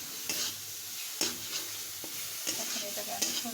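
Moringa leaf bhorta frying in oil and being stirred, a soft sizzle broken by distinct spatula scrapes against the pan, about four or five strokes, close and fairly quiet.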